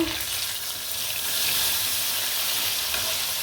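Hilsa fish frying in plenty of oil, a steady close hiss and crackle of sizzling that swells slightly as the fish is flipped, continuous with no voices.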